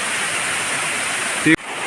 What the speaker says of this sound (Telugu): ఇది ఈత్మాన్గుడి వాటర్ఫాల్